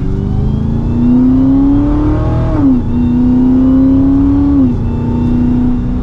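Close, loud acceleration of a Dodge Challenger SRT Super Stock pulling hard from second gear, with a rising engine whine broken by two quick, abrupt upshifts, heard from inside the car with no talk.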